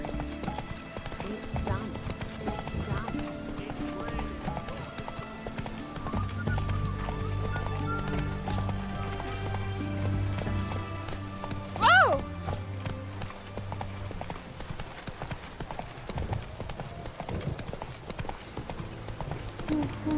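Roach, Geralt's horse in The Witcher 3, gallops along with a rapid, rhythmic clip-clop of hooves and gives a brief whinny partway through, while someone talks over the game sounds.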